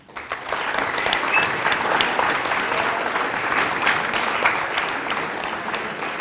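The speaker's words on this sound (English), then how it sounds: "If you would please join me in a round of applause and appreciation for what our coaches bring to this team" An audience at a high school football banquet claps for the team's coaches, a full and sustained round of applause that swells quickly and holds steady in a room.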